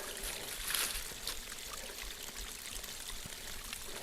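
Water pours and trickles steadily down rocks at the side of a mountain on the Looking Glass Rock Trail, a constant nearby rushing with no voices.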